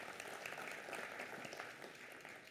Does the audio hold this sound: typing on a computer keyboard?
no